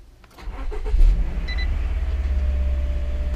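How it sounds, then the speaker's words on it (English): A car engine cranks briefly and catches, then settles into a steady, close idle rumble with a faint whine, heard alone without talk. "So if I just start the car."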